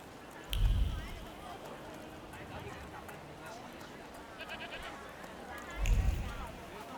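Goats in The Thaumaturge video game give two low, throaty bleats a few seconds apart, fairly close, over a quiet ambient background with faint clicks between them.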